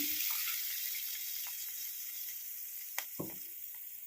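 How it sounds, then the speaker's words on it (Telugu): Water poured into a pot while making rice rava upma, a steady, faint hissing rush that continues throughout with a few small clinks near the end, no voices. "వాటర్ అయితే పోస్తున్నాను"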